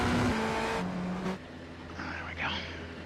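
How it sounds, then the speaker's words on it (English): A race car engine roars loudly in a racing video game, a droning tone that shifts pitch and then drops back to a lower rumble as a voice talks over it. "My car is so freaking loud I can't hear anything else"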